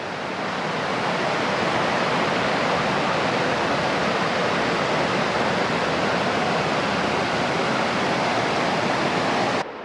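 Water running over an icy stream on a wooded trail in Lisbon, Maine, a steady loud rushing roar with no breaks and no voices.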